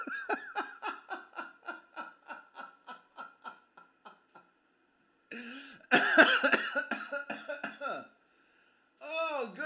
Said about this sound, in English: you got me smoker coughing